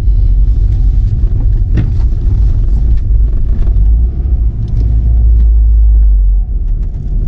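A VW Corrado G60 idles roughly, a loud, heavy low rumble that wavers and dips unevenly, heard up close with no speech.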